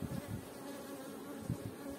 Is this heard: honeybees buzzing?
yes